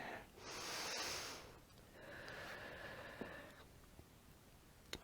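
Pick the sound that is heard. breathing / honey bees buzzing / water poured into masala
breathing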